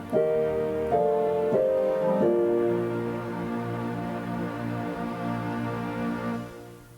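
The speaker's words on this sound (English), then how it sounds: "every sound you hear is being triggered by the master controller keyboard" Synthesizer chords triggered from a master controller keyboard, a few stepping changes in the first seconds, then a sustained pad that slowly fades out.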